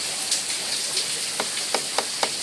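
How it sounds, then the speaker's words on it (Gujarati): Heavy rain falls in Mithapur as a steady roar, with several sharper drops or drips ticking close by near the end, and no voices. "ભગવાન ધબધબાટી બોલાવે છે"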